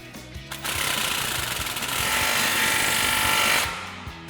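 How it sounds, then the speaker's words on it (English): An impact wrench with a 15mm socket snugs down an exhaust clamp on a slip joint during an MBRP exhaust install on a Ford F-150, giving a loud, close, rapid hammering burst of about three seconds. "we'll go ahead and snug that down, again with our 15mm socket"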